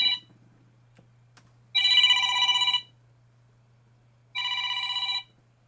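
A smartphone rings in two clean electronic bursts, each about a second long and separated by a pause, loud and close with no talk over it.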